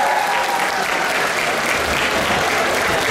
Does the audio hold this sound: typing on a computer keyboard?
no